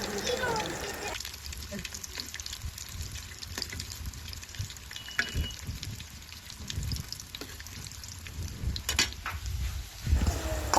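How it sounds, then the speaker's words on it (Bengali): Chopped onion and chili frying in a wok (kadai), browning lightly, give a steady, moderately loud sizzle with small crackles and a few sharper pops throughout. "ওইদিকে লড়াই দিয়ে দিয়েছি পেঁয়াজ কুচি, মরিচ কুচি, হালকা ব্রাউন শেপ করে ভেজে নিব।"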